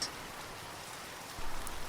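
Steady rain pours over an open quarry, a soft even hiss that swells slightly louder near the end, with no voices.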